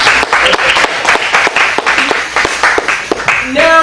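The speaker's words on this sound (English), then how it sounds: "Let's give them a big round of applause." A club audience gives a round of applause, loud and close, with clustered hand claps and crowd noise running continuously, a voice briefly emerging near the end.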